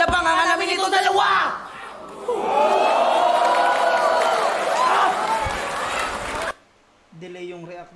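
A rap battle crowd erupts in loud cheering and shouting that swells and holds for several seconds, with rapping voices before and after the roar.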